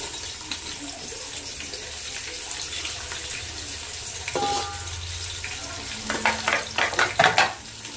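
Sliced onion drops into a pan of browned ginger and garlic and fries with a soft sizzle and stirring, quiet and close, ending in a few sharper scraping bursts.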